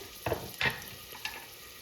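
Chopped onions sauté in oil in a pressure cooker, a soft hiss broken by three sharp spatula scrapes against the metal, the last one lighter.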